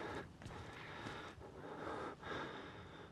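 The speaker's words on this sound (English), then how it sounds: "This man is breathing hard" A man breathes hard in the horror game Outlast, with ragged, heavy gasps repeating in slow rhythm, close and fairly quiet against low ambience.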